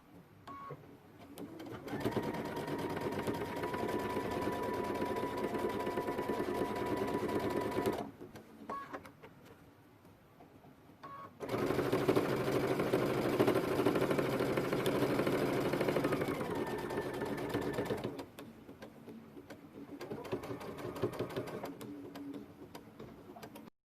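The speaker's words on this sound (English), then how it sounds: "Okay, now we're ready to sew" Sewing machine stitching a double welt pocket into an existing jacket, a steady mechanical whir in two long runs separated by a short quiet pause, fairly soft and close, no speech.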